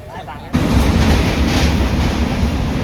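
A crowded passenger train runs from Vasai to Chiplun. A quiet moment at the start gives way, after about half a second, to a loud, steady rumble and rattle of the carriage that continues throughout.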